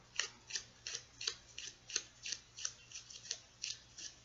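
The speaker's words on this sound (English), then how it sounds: "it's me shuffling the Lenormand Tarot deck." A Lenormand tarot deck being shuffled, giving about a dozen quick, evenly spaced papery riffle bursts, faint and close over a low steady hum, with no talking.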